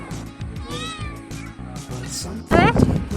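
A cat meows close up several times, rising and falling, with voices talking around it.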